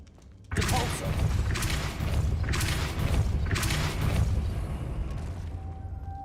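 A Depulso spell is cast in Hogwarts Legacy, a loud rumbling blast that swells in three or four pulsing surges over several seconds before fading, with a faint tone lingering at the end.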